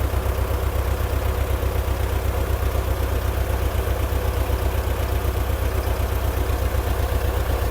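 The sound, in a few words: crawler tractor engine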